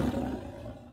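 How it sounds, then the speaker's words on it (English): A tiger's roar in an adventure audiobook scene, a single loud, deep, rumbling blast about a second long that fades out at the end. "The tiger's roar seems to burst in our ears."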